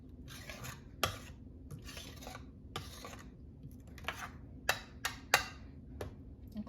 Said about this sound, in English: Just gonna stir it